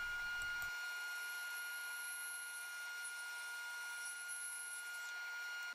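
A saw blade slices a thin layer off the face of a segmented disc glued up from ultra-thin wood laminate, giving a steady, close, high-pitched whine with an even hiss throughout and no talk.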